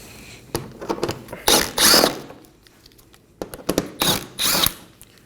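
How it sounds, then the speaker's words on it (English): A power tool or ratchet removing 10mm bolts under a 2020 Toyota Corolla, short bursts of whirring and clicking in two clusters separated by a quiet gap, close up. "We're going to make our way under the vehicle and remove 8 10mm bolts."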